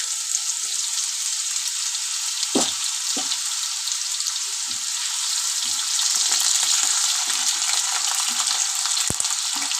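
Cut potatoes frying in hot oil for a drumstick and potato chorchori, a loud, steady close sizzle with occasional soft knocks and no one talking.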